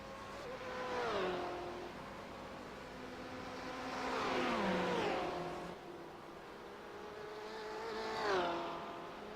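A Porsche race car engine in a racing game at Sebring howls through three swelling runs, climbing in pitch and dropping at each gear shift, steady and fairly close without any talk.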